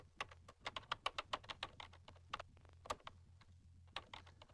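Quick, uneven keystrokes on a home computer keyboard, about two dozen close clicks in bursts with short pauses, no talking.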